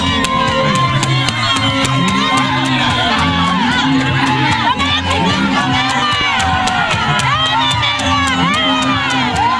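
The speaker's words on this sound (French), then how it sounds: "Cela ne les empêchera pas d'acclamer le président de l'association des maires comme un héros." Parents in a crowd cheer and shout for the mayors' association president, loud and continuous, with children's high voices and whoops mixed into the roar.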